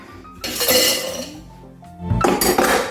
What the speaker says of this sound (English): take your shaker and you need a scoop of ice in your shaker